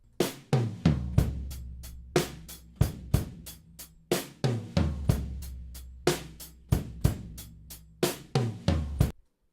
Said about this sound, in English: I've just got an EQ here that's just got a filter on it